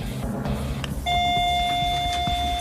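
A single electronic bell tone sounds in a room where women stand in line during a social compliance experiment, ringing steadily over background room noise until the clip ends.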